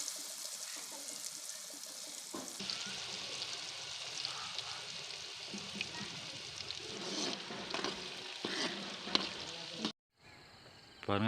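Marinated pork pieces for village-style pork pakoda fry in hot oil, giving a continuous bright sizzle that swells as more pieces go in, then cuts out briefly near the end before resuming.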